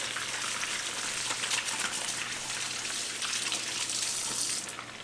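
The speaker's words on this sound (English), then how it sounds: "Gotta rinse my hands off." Hands rinsed under a running tap while making a beer batter slurry for walleye shore lunch: a steady, fairly close broadband splash of flowing water lasting throughout, easing off slightly at the end, with no talking.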